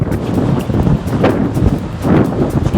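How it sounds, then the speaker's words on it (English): Strong wind buffets the microphone in gusty, rumbling bursts, a continuous rough roar with no other sounds standing out. "And it's super windy."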